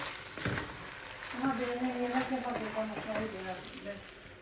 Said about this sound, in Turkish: Evet arkadaşlar pirincimi de kavuruyorum